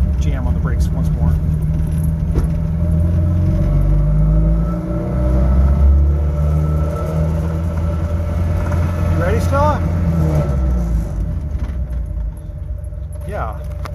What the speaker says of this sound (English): Let's do a U-turn here and jam on the brakes once more.